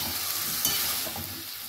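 Diced turnip vegetables fry in an oiled pan, a continuous close sizzle with light stirring scrapes through the short stretch and no talking.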